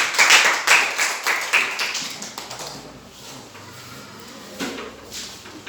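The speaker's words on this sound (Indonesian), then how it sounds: "Beri tepuk tangan untuk Dipani dan Sinar." A classroom group claps for two presenters, a burst of loud, scattered hand claps that fades into quieter, sparse clapping and room noise.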